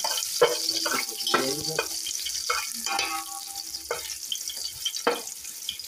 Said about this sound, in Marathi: 2-3 लसणाचे कांदे ठेचून घेतलेले आहेत, ते टाकूया। परतून घेऊया।